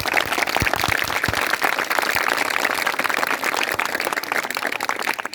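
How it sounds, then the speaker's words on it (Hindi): Village children from Sakatpur near Batiyagarh in Damoh district applaud together, a dense, steady clapping that fills the room loudly for several seconds without pause. "तो एक बारी जोरदार तालियां सब अपने लिए"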